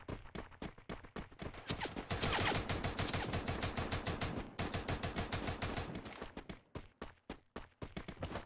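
Rapid automatic gunfire from the Free Fire video game during a Clash Squad championship final, with dense bursts of shots, a brief pause, then more sustained firing.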